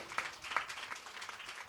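Congregation clapping at a church dedication service in Sudivaripalem, producing a faint, scattered patter of hand claps with a few sharper individual claps, heard at a distance.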